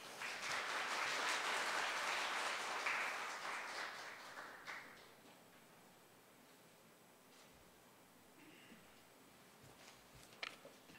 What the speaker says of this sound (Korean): 원장님 큰 박수로 앞으로 모시겠습니다